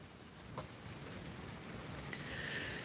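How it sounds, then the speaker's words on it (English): Steady soft hiss of light rain falling, with a faint patter building slightly toward the end; no voices. "yep, it's starting to rain on us again"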